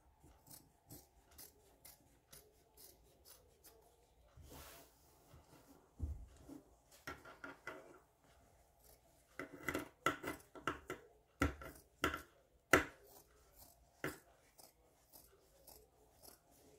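Scissors cut dress fabric in a quiet room with a series of faint, irregular snips and handling clicks that grow denser and a little louder toward the end.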